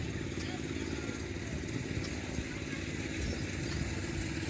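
A small engine on a half-lawnmower, half-motorcycle machine runs steadily at a constant idle-like rumble, close by and unchanging, with faint voices in the background at a vintage tractor and riding mower show.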